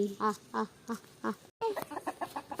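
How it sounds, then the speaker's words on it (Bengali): Several chickens in a home yard give a run of four or five short, throaty clucking calls, fairly close and clear, followed by a quicker burst of calls with what may be a voice mixed in. "দেখো কতগুলো মুরগি"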